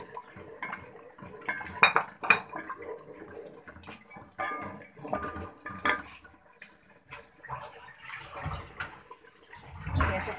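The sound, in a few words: sautéing spices in a pot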